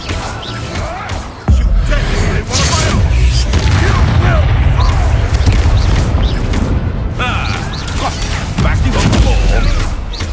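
Bombarda and Confringo spells blast in a fight in Hogwarts Legacy, sending loud booming explosions and crashing impacts over a continuous roar of combat, with brief spoken words mixed in.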